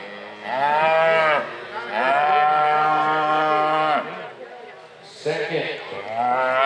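Heifers at a junior livestock show bellow in long, loud, close moos, three drawn-out calls with brief pauses between, as a voice speaks briefly over the end.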